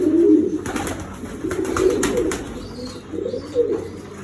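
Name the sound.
pigeons cooing in a pigeon loft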